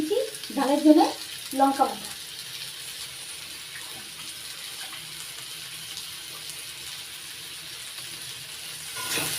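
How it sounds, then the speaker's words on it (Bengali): Potatoes and radish fry in a pan, giving a steady moderate sizzle that runs on alone after a short stretch of talking at the start. "ভেজে নিচ্ছি আলু আর মূলটা ভাজা হতে থাক"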